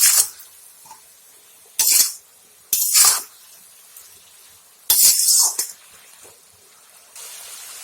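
A spoon mixes chili powder into a pan of aubergine, potato and gourd-shoot curry with mola fish, making four or five bright, sharp clanks against the metal, separated by short quiet gaps.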